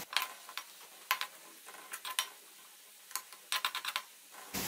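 Onions browning in a pot for biryani, heard as a faint, irregular series of stirring clicks and scrapes against the metal with quiet gaps between them.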